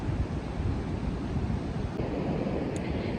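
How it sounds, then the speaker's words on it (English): Rough surf rolls steadily onto a beach after a storm, whitecapped waves making a continuous loud wash of broadband noise with no breaks and no voices. "you can see lots of white caps on the waves. Lots of waves rolling in."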